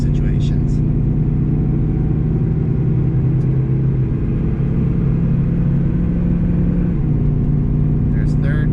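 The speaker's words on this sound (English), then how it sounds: "There's third gear. There's fourth gear. And there's the torque converter clutch." A car engine pulls steadily as the vehicle accelerates on the highway, shifting into third and fourth gear before the torque converter clutch engages, a loud continuous rumble inside the cabin with a voice talking over it.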